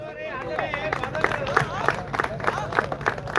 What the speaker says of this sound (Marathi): याच संघासाठी जर जोरदार टाळ्या झाल्या पाहिजे